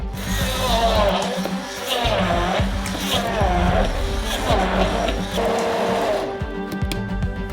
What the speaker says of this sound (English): We pour some blueberries into a bowl and grind it up with the blender as well.